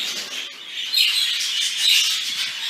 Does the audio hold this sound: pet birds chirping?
yes